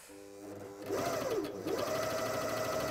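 A Britannia coverstitch sewing machine with an 80 universal needle stitches jersey fabric, starting up after a quiet moment into a steady, close mechanical whir that runs continuously to the end.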